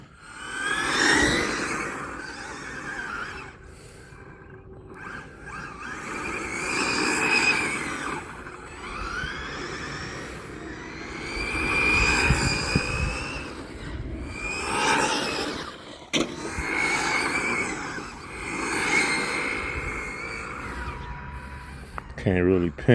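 A Maverick Quantum RFlux 1/8 RC car drives around to warm its tires, its electric motor whining up and down in repeated rising and falling passes at moderate distance.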